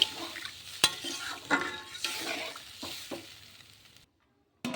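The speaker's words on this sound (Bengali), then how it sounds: "এবার জল দিয়ে দেবো। জল দিয়ে একটু নাড়িয়ে চাড়িয়ে" Egg curry stirred in a pan after water is added, with scraping spoon strokes and clinks over a soft simmering sizzle, then a short silence before another scrape; no speech.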